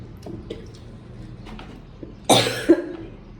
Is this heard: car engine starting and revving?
no